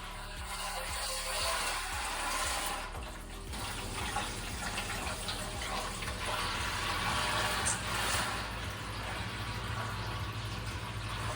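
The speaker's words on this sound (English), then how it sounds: "Then we fill 5 liters of water in the Brewster Beacon." Water pours steadily into a Brewster Beacon brewing vessel as 5 liters are filled, a continuous rushing, splashing stream that keeps going without a break, with no talk over it.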